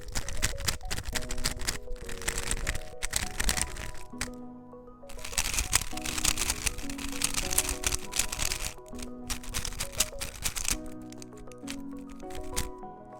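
A GAN15 speed cube turns quickly, its layers producing dense, snappy plastic clicks and rattles in bursts with short pauses, heard close over quiet background music.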